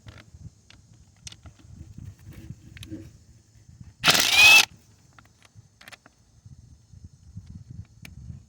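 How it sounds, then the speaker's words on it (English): A 12-point 12mm socket wrench works a nut off a Nissan fusible link box, with light intermittent clicks and creaks and one loud half-second burst of ratcheting in the middle. "So we're going to go ahead and start taking off the nut."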